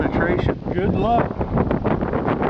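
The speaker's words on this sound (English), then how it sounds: "It's a real windy day at the Buckskin" Strong wind buffets the microphone with a low, gusty rumble at a shooting range while a person speaks briefly over it.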